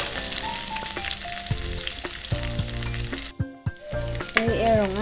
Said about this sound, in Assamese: এইফালে আদা নহৰুখিনি গোটেইখিনি দি দিম, ভালকৈ অকণমান ভাজি ল'ম